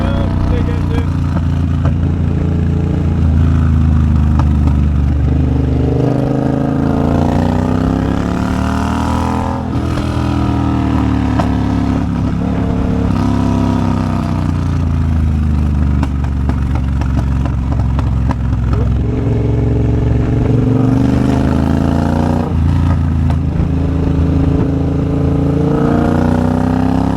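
Triumph Bobber motorcycle cruising in second gear, a steady near engine drone with shifting pitch as it holds speed, running continuously under a rider's voice talking throughout.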